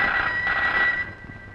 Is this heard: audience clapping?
no